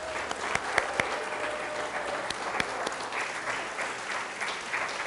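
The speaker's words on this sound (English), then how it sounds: "let's give a big round of applause to Kathy Hannes and George Ward especially." Congregation applauding at a worship service, dense sustained clapping from a crowd with a few sharp louder claps standing out near the beginning.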